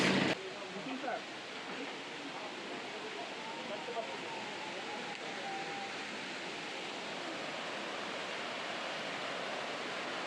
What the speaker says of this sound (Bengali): আস্তে আস্তে ঝর্ণা গড়িয়ে পড়ছে